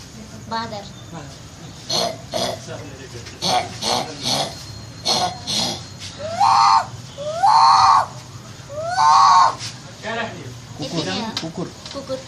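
A girl mimics a monkey with a series of close, loud vocal calls: short clipped hoots early on, then three longer rising whooping cries spaced a couple of seconds apart.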